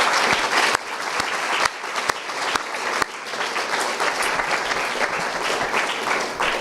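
Sustained audience applause for graduating students at a graduation party, a dense steady clapping from a sizable crowd lasting throughout with a few sharper claps standing out.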